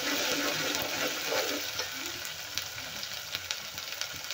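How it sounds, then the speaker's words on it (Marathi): Food frying in hot oil in a pan for puran poli preparation, a loud dense steady sizzle throughout with faint stirring taps in the later part, no voices. "तेही तेलामध्ये छान फ्राय करून घेऊया."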